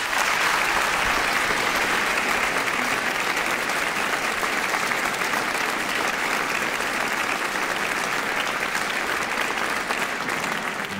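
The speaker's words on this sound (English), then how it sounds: "a round of applause to Gerald Finley, Carrie Grant, Camilla Kerslake and Bob Chilcott" A large audience applauds the judges at a young choristers competition, sustained, dense and loud clapping that holds steady throughout without pause.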